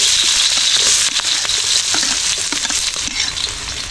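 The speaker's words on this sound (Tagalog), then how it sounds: "simulan natin gisahin" Onions sautéing in a hot pan give a loud, steady sizzle with occasional stirring scrapes, close up and with no talking.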